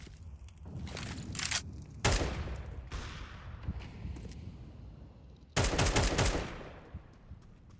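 Automatic rifle fire sprayed in a Counter-Strike 2 match at a regional esports qualifier, two sharp bursts of rapid shots a few seconds apart over scattered game thuds and steps.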